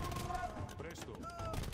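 Spanish conquistador gunmen open fire in Age of Empires II: Definitive Edition, quick volleys of gunfire sounding faintly within a busy battle mix with voices.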